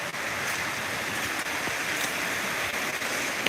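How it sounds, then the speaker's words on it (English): Stream water rushing and splashing in a snowy outdoor spot, a continuous broad hiss of flow with small irregular splashes, steady and moderately close, with no voices. "Great sound, the water."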